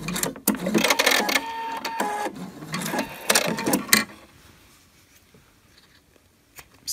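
Sewing machine backstitching at the start of a belt strap, a quick burst of dense rapid stitching for about four seconds that then stops, leaving near silence.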